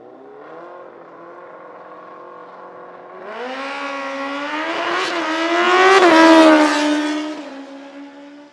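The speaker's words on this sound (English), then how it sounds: "Kevin McKay coming up now on his Kawasaki." A Kawasaki launches on a no-prep drag strip at Toronto Motorsports Park, its engine droning steadily before surging into a loud, rising high-revving scream that peaks and then fades as it pulls away; no talk.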